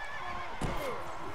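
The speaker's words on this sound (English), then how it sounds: "it's a full health practice horse" A practice horse whinnies in the Mount & Blade Warband game, a short, shrill neigh in the middle of faint battle ambience.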